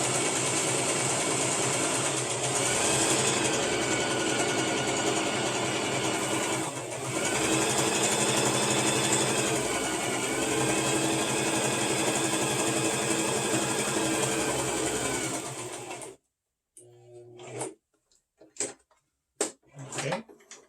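Sewing machine stitching a fabric hem on a face mask, a steady continuous close-up whir for about sixteen seconds, then stopping abruptly, followed by a few short knocks and handling clatters.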